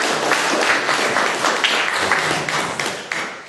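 Audience applause at a talk on social movements and trade unions, a dense steady clapping from many hands, fairly close, with no speech.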